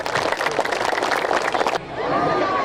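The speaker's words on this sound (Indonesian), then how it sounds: "Tepuk tangan dulu." Applause from a village gathering audience, a dense patter of many hands clapping loudly for almost two seconds before it abruptly drops to a softer, thinner wash of crowd noise.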